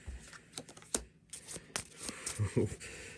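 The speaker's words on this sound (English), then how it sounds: "So we're going to shuffle back into this deck." Board game cards riffled and shuffled back into a deck at a game table, a series of quiet irregular crisp flicks and slaps, close by, with soft background sounds between.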